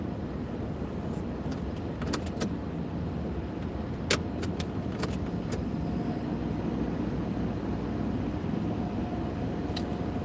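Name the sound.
car going through a car wash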